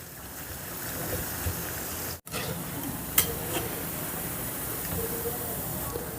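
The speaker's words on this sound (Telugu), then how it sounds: "ఇలా మధ్య మధ్యలో కలుపుకుంటూ మంచి బంగారు వర్ణం వచ్చేంత వరకు పకోడీని వేపుకుందాం" Onion pakodi deep-frying in hot oil gives a steady, moderate crackling sizzle, with a brief scrape as it is stirred partway through and a short break in the sound.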